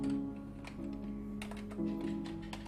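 Light clicks of typing on a computer keyboard while entering data in Microsoft Excel, a few soft taps over a low steady hum, close and quiet with no talking.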